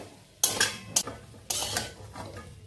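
Green chili being stirred into a vegetarian green papaya curry in a pan, with a few sharp scrapes and clinks of a spoon against the metal over a low background.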